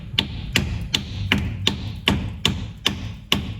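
A hammer strikes a car drive shaft during axle removal for a gearbox oil seal replacement, landing about nine sharp metallic thuds in a steady, evenly spaced rhythm, close and loud with no talking.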